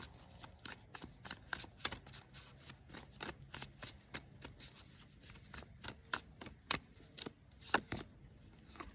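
Spell casting oracle cards are shuffled by hand, with a fast series of crisp riffling slaps repeating steadily throughout, close up and with no talking.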